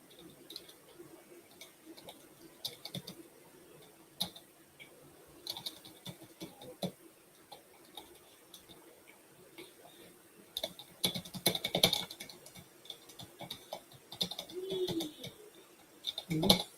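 Computer keyboard typing comes in scattered bursts of quick clicks, fairly close, growing busier toward the end over a faint background hum and occasional soft voice-like sounds.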